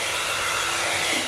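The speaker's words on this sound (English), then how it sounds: "you can even plug your hairdryer in." A hair dryer runs on a portable power station at a beach wild-camping spot, giving a steady, loud, close whoosh of motor and blowing air with no break.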